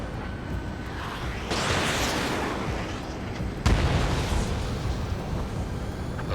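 A missile launch and explosions in the Ace Combat 7 video game, a rumbling roar that swells, then a sharp blast followed by continuing booming noise.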